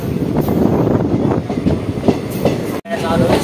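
Delhi–Haridwar Express train passing on its return run, a close, loud continuous rumble with clattering wheel noise throughout and a brief sharp break near the end.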